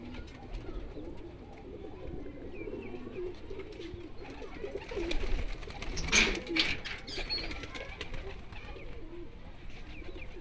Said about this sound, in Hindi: ओवरऑल ये सारे कबूतर है भाई